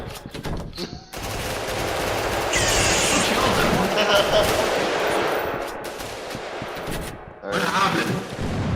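Video-game gunfire during a shooting, dense bursts of shots running for several seconds, loud and close, with brief talk over the start.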